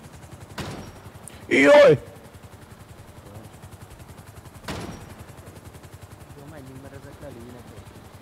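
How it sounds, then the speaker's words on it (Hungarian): Gunfire in the video game GTA V, a couple of sharp bursts heard over a steady engine-like drone, with a brief loud cry and people talking in the background. "De ne lövöldözzél már."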